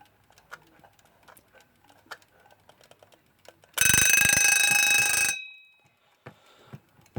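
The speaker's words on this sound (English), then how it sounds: "Let's see what the alarm sounds like." A Bayard 1066 mechanical alarm clock rings in one loud, close, metallic bell burst lasting about a second and a half, then decays, with quiet ticking and winding clicks around it.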